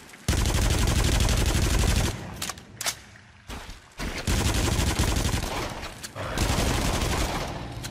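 Rapid gunfire bursts in the PS4 VR shooter Until Dawn: Rush of Blood, loud close volleys with short pauses between them and a brief quieter stretch in the middle.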